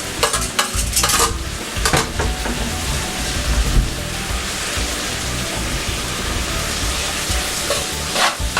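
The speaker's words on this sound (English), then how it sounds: "Mix it up real good." Brussels sprouts sizzle and fry loudly in a pan while being stirred, a constant hiss broken by a few scraping, clattering strokes of the utensil near the start and end.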